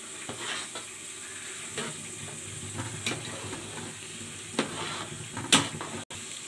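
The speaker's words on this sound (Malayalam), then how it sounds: "ഇനി നമുക്ക് ഇതൊന്ന് ഫ്രൈ ചെയ്തെടുക്കാം" Chicken biryani ingredients fry in a pan, a steady soft sizzle broken by occasional stirring scrapes and clinks of a utensil, fairly quiet and close.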